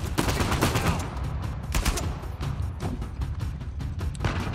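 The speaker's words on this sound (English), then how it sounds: "Somebody else was shooting me." Rapid bursts of gunfire in the video game Uncharted 4: A Thief's End, loud repeated shots crackling in quick clusters, dense and close, with almost no pause across the stretch.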